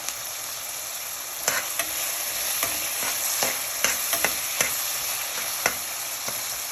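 Onions sauté in oil for prawn biryani, a steady bright sizzle close by, broken by repeated sharp scraping strokes of a spoon against the pan at an irregular rhythm, alone without voices.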